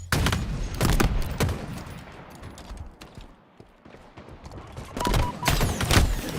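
Bursts of rapid gunfire crackle in clusters at the start and end, separated by a quieter stretch.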